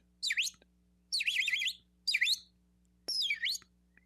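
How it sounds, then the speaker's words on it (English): Birds give several short bursts of high chirping and tweeting, fairly close, with gaps between calls over a steady low hum. "We hear birds."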